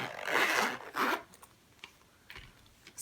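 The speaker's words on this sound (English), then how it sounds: "I'm gonna go ahead and zip this guy up" A zipper on a red Saffiano leather compact Filofax is pulled closed in two quick, close rasping strokes, followed by a few light clicks and taps.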